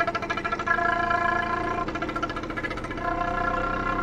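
A Rajdoot GTS 175 motorcycle's 174 cc engine runs while riding, giving a steady mid-pitched, rapidly pulsing drone with fast regular beats and a slight rise and fall in tone throughout.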